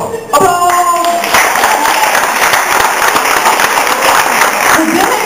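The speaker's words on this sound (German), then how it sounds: "Applaus!" A crowd at the Nicon 2009 anime convention in Hannover applauds a cosplay contest entry, loud continuous clapping in a large hall after a brief burst of music at the start.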